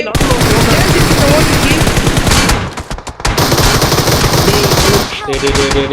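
Continuous automatic gunfire in the BGMI battle royale game, loud and close, sustained bursts with a brief pause mid-way before firing resumes.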